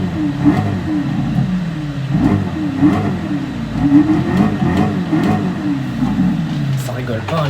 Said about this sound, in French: On va commencer à entendre le bruit du moteur.